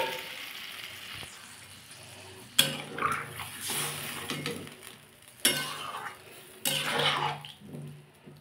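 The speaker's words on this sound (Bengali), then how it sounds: "আমি এবার একটু জল দিয়ে দেবো।" Water poured into a pan of simmering tilapia fish curry with broccoli and potato, giving several bursts of hissing sizzle and splashing, each surge loud then fading, with faint clinks of a pot in between.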